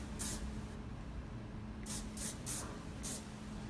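Four short hissing bursts of hairspray, one early and three close together later, each a quick pshh against a quiet background.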